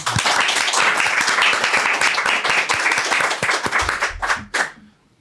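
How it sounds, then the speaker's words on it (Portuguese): A loud, energetic round of applause welcoming Fernanda and Thales onto a talk show about the CODE RACE 2025 programming championship: rapid dense clapping from a nearby audience that tapers into a few last claps and a brief voice. "com uma salva de palmas"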